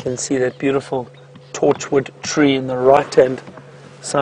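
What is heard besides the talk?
No distinct noise like a dog, phone or traffic.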